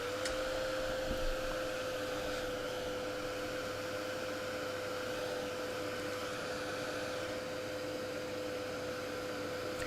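A hair dryer drying a spring-themed craft project hums and blows in a steady, even drone for about ten seconds, moderately faint with no other sounds.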